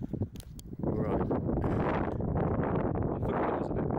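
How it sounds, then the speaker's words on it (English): Wind on the Ring of Steall ridge walk in the Scottish mountains buffets the microphone in a loud, continuous roar after a brief quieter start, with some talk mixed in. "I forgot it was a bit windy."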